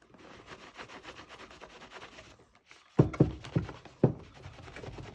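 Polish worked into a worn leather shoe with a cloth, a steady soft rubbing texture that breaks into several firmer, louder strokes near the end, close and alone.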